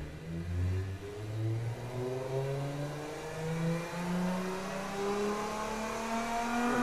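A Chevy 4.3L Vortec V6 fitted with individual throttle bodies, running in the car-building game Automation, revs steadily upward on a dyno pull, its engine tone climbing through stepped gear-like rises, smooth and moderately loud with no voices.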